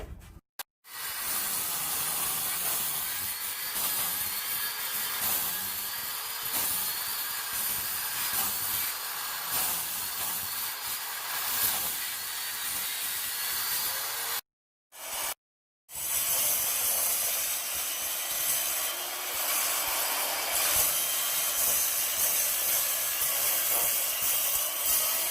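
A power saw cuts fire bricks for a syrup boiler with a loud, steady, hissing grind that runs almost continuously, broken by two short pauses, then resumes at full strength.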